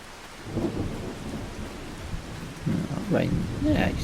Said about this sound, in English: Rain, yeah, it shouldn't last too long.